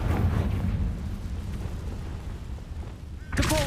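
A Confringo blasting spell exploding in the Hogwarts Legacy video game, heard as a loud rumbling blast that decays into a sustained roar before a sharp new burst at the end.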